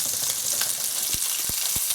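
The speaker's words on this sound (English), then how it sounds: "now that the burgers are pretty much cooked, we'll remove them from the frying pan" Steady frying sizzle of burgers in a frying pan, broad and hissy, with a few soft thumps or taps near the end; no voices.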